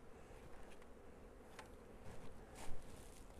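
Honeybees buzzing around backyard beehives, a faint, continuous insect hum with occasional louder passes as individual bees fly close to the microphone outdoors.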